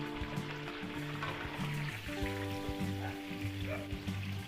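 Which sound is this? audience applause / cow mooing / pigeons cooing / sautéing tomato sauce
sautéing tomato sauce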